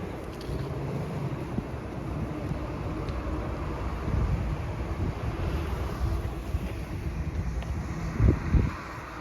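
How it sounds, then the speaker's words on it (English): Fierce winter wind in Toronto during a deep freeze buffets the microphone, a steady low roar with gusts swelling near the end, no talking. "And we hit some pretty fierce wind."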